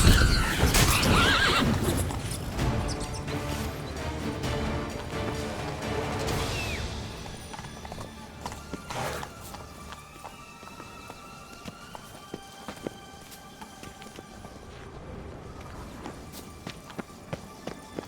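Geralt's horse Roach in The Witcher 3 whinnies loudly up front, then hooves clip-clop at a gallop that settles into a steadier, quieter gait beneath ambient game sounds.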